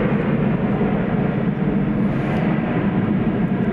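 Qantas Boeing 787-9 Dreamliner at DFW Airport at night, heard as a loud, steady broadband engine roar that fills the whole short stretch with no talk.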